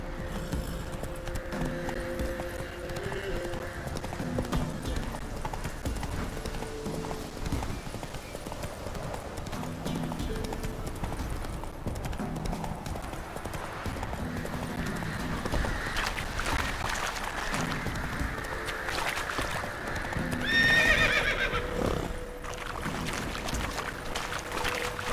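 In The Witcher 3, Roach the horse gallops with steady rhythmic clip-clop hoofbeats throughout, plus a whinny near the end, over game ambience.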